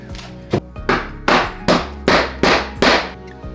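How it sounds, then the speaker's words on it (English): Hammer blows struck overhead while fitting windows on a building: about seven sharp, solid knocks at an uneven steady pace, each with a short ringing decay, fairly close and loud with no talk. "Can't you just swing the hammer up there?"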